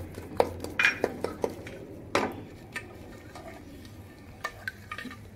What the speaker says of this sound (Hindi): अब इस तरह आपने तेज से चम्मच चलाना है ताकि इसके अंदर जो है गुठलियां ना बने।